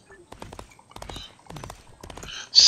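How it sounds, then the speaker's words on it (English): Hoofbeats of a horse galloping in the Disney Infinity Lone Ranger video game, quick clip-clop strikes in bursts with a louder sharp sound near the end, close and moderately loud. "This horse just ain't fast enough"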